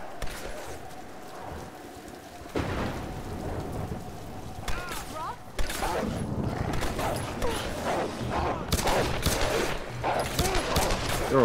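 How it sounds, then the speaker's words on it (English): Distant gunfire in the Tomb Raider video game, a dense crackling rumble like rain and thunder that swells and fills the whole stretch, loud and continuous, with faint voices underneath. "Distant gunfire."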